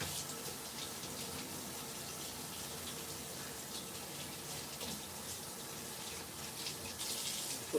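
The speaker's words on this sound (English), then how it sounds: "I need to rinse this out." Tap water runs steadily into a kitchen sink while a container is rinsed out. The flow is continuous and fairly soft, with a slight surge near the end and no talking.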